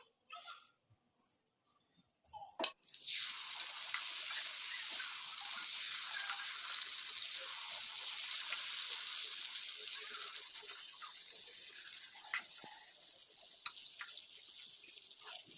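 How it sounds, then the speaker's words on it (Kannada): Oil drizzled over paddu batter in a hot paddu pan made from leftover dosa batter sets off a steady, close broadband sizzle after a few quiet taps, holding loud and even to the end with occasional pops. "ಪಡ್ಡು ಸ್ವಲ್ಪ ಎಣ್ಣೆ ಹಾಕೋಣ"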